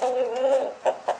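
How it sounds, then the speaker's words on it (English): Chickens at feeding time clucking up close, a short run of warbling clucks followed by two quick sharp clucks. "let's feed these chickens, shall we?"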